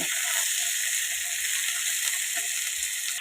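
Raw bananas added to a hot oiled pan and stirred, giving a steady bright sizzle with occasional soft scraping and stirring clicks, close and continuous with no talking.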